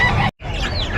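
Ducks at a pet market give a brief burst of harsh, nasal calls, cut by a split-second gap before the noisy calling resumes close by.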